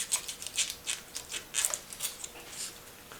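Quick crisp scratchy strokes of an X-Acto knife slicing through paper during drill press belt lacing work, a series of about a dozen short, close cuts with no talking.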